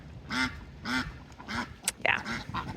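A drake duck gives a series of loud, raspy quacks close by, spaced about half a second apart, with a brief scuffle of other sounds near the end.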